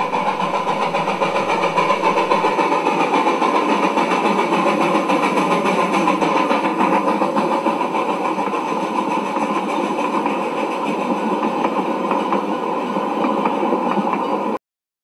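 A small model train engine whirs and clatters steadily while shunting, with a metallic rhythmic rattle, continuous and fairly loud throughout, no voices.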